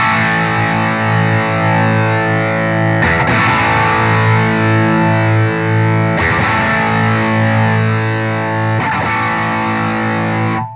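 Electric guitar runs through a small H&K Spirit Nano amp with its sag feature engaged, giving thick, distorted sustained chords. Three fresh strums land about every three seconds, and the volume dips slightly as each one rings out.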